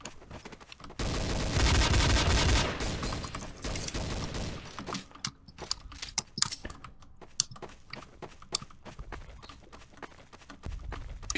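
Gunfire in the video game Counter-Strike: Source, a dense, loud burst of rapid shots early on, followed by scattered sharp single shots and clicks with quieter game noise between them.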